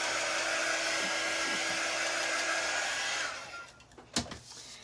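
A hair dryer runs steadily and loudly on a damp item in a basement for about three seconds, then switches off, leaving a few faint handling knocks.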